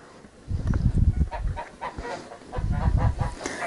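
A flock of geese honks and cackles in noisy overlapping calls, close by and fairly loud, with shuffling movement underneath, around hay.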